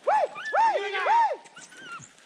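Hunting dogs, greyhounds and rabbit hounds, on a rabbit hunt give three loud, close, rising-and-falling whimpering yelps in quick succession, followed by fainter whines and yips.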